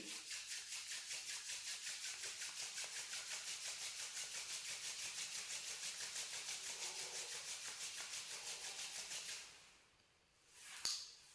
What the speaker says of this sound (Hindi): अपने हाथों को आपस में रगड़ेंगे